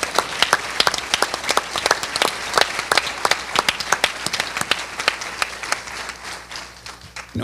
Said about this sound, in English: a round of applause and a thank you to make this happen